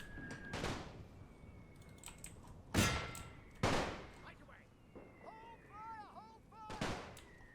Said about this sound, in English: We still keep on getting bombarded or something.